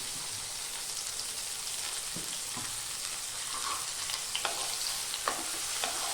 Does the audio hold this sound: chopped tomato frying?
yes